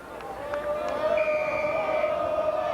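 Football stadium crowd at a 1988 Western Final, Sun vs Hilltops, building a rising, sustained roar and whistling before a kick, distant and broad, with a commentator's voice talking over it.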